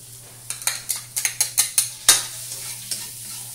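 Chopped garlic sautéing in a pan for a chicken curry: a run of quick scraping stir strokes over a soft sizzle, close and fairly loud, then settling into a quieter frying hiss.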